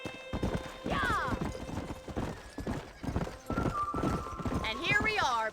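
Horse hooves clip-clop in a steady gait as a horse is ridden in a video game, close and clear, with a neigh and a character's voice talking over the hoofbeats throughout.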